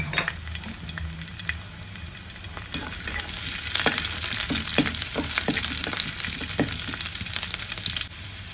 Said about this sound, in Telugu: అదే ప్యాన్లోనే కొంచెం ఆయిల్ అయితే మిగిలించుకున్నాను. గార్లిక్ వేసుకున్నాను.